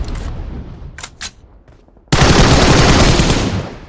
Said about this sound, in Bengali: আমার সামনে এনিমি ফায়ারিং করতেছে আমারে ভরপুর।